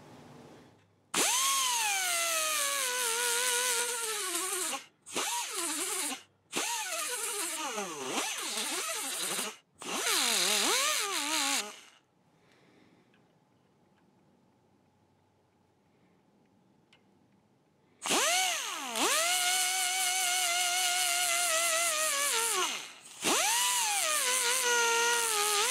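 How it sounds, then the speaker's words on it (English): A power tool sands down a Mustang door hinge pin to shrink its diameter, giving loud, high whining bursts that rise and fall in pitch. A long quiet pause sits in the middle before the grinding resumes. "I'm going to sand this down a little bit, try to reduce this diameter"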